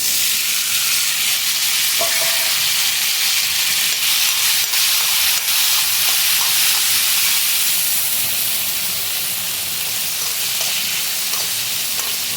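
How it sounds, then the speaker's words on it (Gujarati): Potatoes and tomatoes sizzle steadily in a hot pan of oil while khichdi cooks, a continuous loud frying hiss with faint stirring clicks, no talking. "હવે આપણે એની અંદર બટાકા અને ટામેટા એડ કરીએ"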